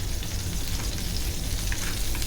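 A steady, dense sizzle comes from stuffed crab shallow-frying on a tawa until both sides change colour. The crackle is constant and close, with no voices.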